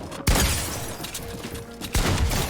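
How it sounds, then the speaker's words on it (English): Gunshots hit an opponent in a shooter video game, with two sharp, loud blasts a couple of seconds apart and busy game noise in between. "Nice shots on that guy."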